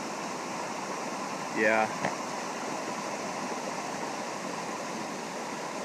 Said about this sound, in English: Still in the El Yunque rainforest. This is the Colorado area. More waterfalls.